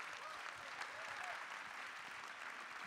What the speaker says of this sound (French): On peut l'applaudir et on peut l'encourager.